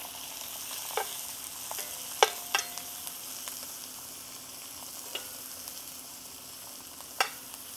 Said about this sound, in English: And then we're gonna put some butter in.